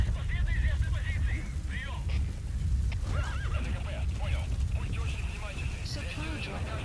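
A horse in Metal Gear Solid V: The Phantom Pain whinnies loudly several times over rumbling hoofbeats and busy game noise, with a voice talking in the background.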